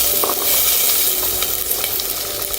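Small shallots sizzle and crackle steadily in hot oil with popping mustard seeds while being stirred, for a jackfruit seed sambar; a close, continuous frying hiss with a few sharper spatters, and no talk.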